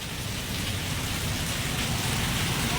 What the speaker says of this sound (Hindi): बारिश लगातार जोरदार हो रही है।